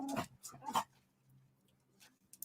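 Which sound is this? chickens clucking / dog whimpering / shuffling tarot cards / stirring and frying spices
dog whimpering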